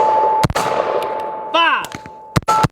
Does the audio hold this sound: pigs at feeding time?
no